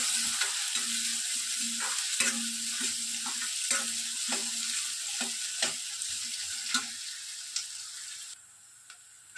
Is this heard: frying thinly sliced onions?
yes